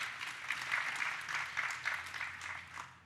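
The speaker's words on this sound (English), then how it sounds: "I'd encourage you to clap at that." Quiet audience applause at a public talk, a soft, somewhat distant pattering of clapping that rises and falls in small swells over a few seconds.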